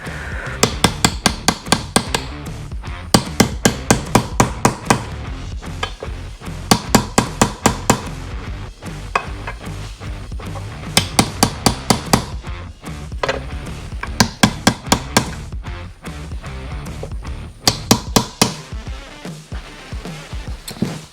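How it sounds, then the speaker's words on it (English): Hammer tapping a part into a Yamaha YFZ450R engine case through a socket, repeated sharp metallic knocks in quick bursts of several strikes with brief pauses, close and clear. "We're just gonna tap that in with a socket, nice and easy."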